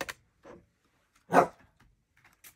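A dog playing with a ball indoors gives a few short, sharp barks scattered through quiet, with one louder bark in the middle and fainter yips around it.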